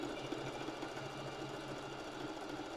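Sewing machine running a three-step zigzag stitch on lingerie fabric, a close, steady, fast mechanical whir and clatter that continues evenly throughout without any speech.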